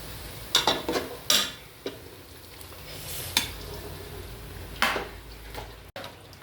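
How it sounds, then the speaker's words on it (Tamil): A spoon scrapes and stirs through a thick masala mixture in a pan, with irregular clinks and scrapes over a soft, steady sizzle. "நல்லா இப்படி தொழுவி நல்லா மசாலா இறங்குற வரைக்கும் நல்லா கொதிக்க வைக்கணும்"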